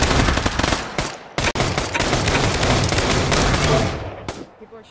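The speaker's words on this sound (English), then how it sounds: "People are shooting already." Gunfire in a video game: dense, loud bursts of rapid automatic shots, close up, with brief gaps, then tapering off toward the end.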